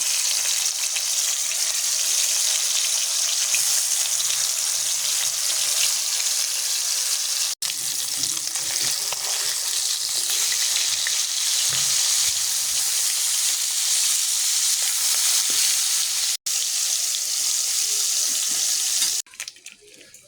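Rohu fish pieces rubbed with salt, turmeric and chili fry in hot oil, making a loud, steady sizzling hiss that drops out twice for an instant before cutting off at the end.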